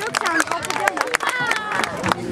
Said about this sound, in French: Je crois que vous pouvez l'applaudir.